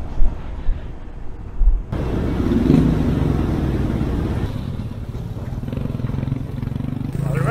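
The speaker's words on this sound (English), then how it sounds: "We have our motorbikes with us, parking down there" After a few scattered knocks, an engine starts and idles with a steady rumbling drone, like a motorbike running nearby, with faint talk in the background.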